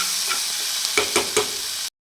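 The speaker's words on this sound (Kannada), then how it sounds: "ಟೊಮೆಟೊ ಮೆತ್ತಗಾಗೋವರೆಗೂ ಹುರ್ಕೋಬೇಕು" Tomato masala frying in a pan for paneer gravy, a short burst of close sizzling with a few distinct stirring scrapes before cutting off.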